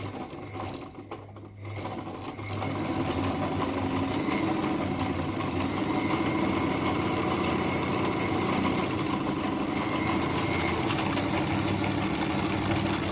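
A Singer 206K sewing machine starts up and runs steadily to wind a bobbin, a close, continuous mechanical whir with a faint clicking texture after a brief quieter start.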